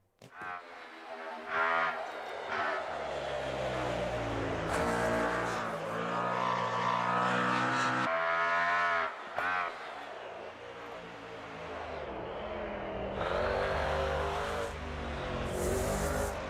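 Race car engine in the Automobilista 2 sim racing game, roaring loud and sustained with rising and falling revs and gear changes across the whole stretch, heard alone without talk.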